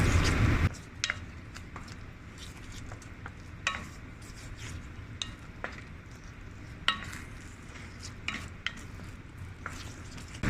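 Instant noodles mixed with ketchup are stirred in a pan, a steady scraping and sizzling with sharp clinks of the utensil against the metal scattered through, close and continuous with no talking.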